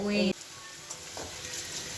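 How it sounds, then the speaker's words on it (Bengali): Potato pieces fry in oil for a home-cooked chicken biryani. A brief tonal sound opens, then a soft, steady sizzle hisses quietly with faint stirring ticks. "এবার আলুগুলো একটু ভেজে নিচ্ছি"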